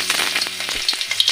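Garlic frying in a pan for cauliflower 65, a dense, close hiss of sizzling oil with small crackles across a brief moment, loud and without any voice.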